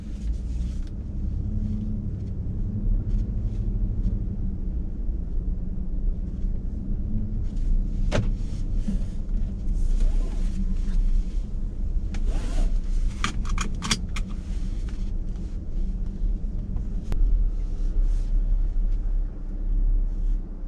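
A 2018 Ford F-150 pickup truck drives with a steady low engine rumble heard from inside the cab. Clicks and jangling rattles come and go over the drone throughout.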